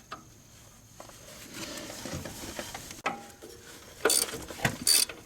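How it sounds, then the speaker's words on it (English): A wrench ratchets on a bolt of a Toyota Tundra, with uneven clicking bursts and a few sharp metallic clanks near the end, close up and without talking. "once the bolt starts turning, this other wrench kicks in"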